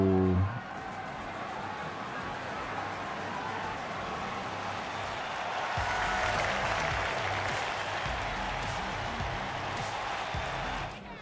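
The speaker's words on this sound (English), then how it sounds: "Oh, the clapping, it's so nice." Crowd clapping fills a WWE 2K24 wrestling arena in Japan, a steady dense wash of applause that swells midway and carries on throughout, with low thumping game sounds underneath.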